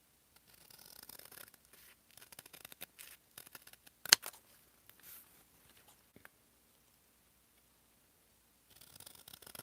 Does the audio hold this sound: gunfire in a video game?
no